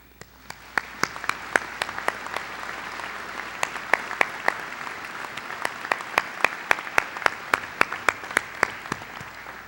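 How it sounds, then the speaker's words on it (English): Audience at a university undergraduate commencement ceremony applauds in a large hall, steady clapping with sharp individual claps standing out near the microphone over a broad, sustained crowd wash. "please join me in giving a round of applause for all of those who have supported us"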